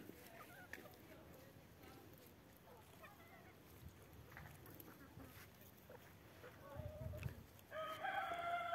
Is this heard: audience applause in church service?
no